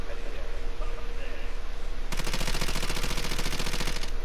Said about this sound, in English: Wait, is someone else shooting?